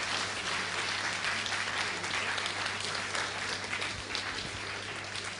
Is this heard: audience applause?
yes